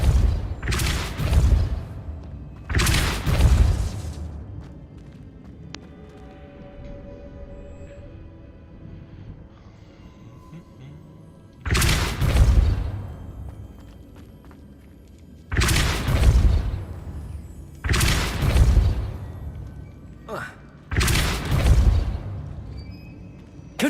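Spells are cast in Hogwarts Legacy, giving a series of heavy booming blasts: two close together, a long pause, then four more, each a deep rumbling impact that fades away.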